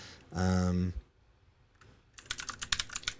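Keys clattering in quick, uneven bursts at a computer keyboard during a note-taking session, close and fairly clear, following a short burst of speech earlier on.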